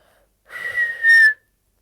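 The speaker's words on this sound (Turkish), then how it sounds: "Çok güzel ıslık" A short whistled phrase, close and clear, a steady tone that rises and ends on a brighter held note, then silence.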